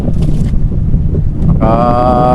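Strong habagat monsoon wind buffeting a boat at sea off Baler, Aurora, roaring steadily and loudly throughout, with a sharper engine or rigging whine rising near the end.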